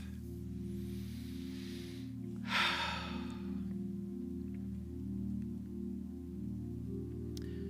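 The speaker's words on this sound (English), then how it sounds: "Take a deep breath." A slow, deep breath, one long airy inhale and exhale rising over a steady low hum during a quiet meditative pause at a Sunday church service.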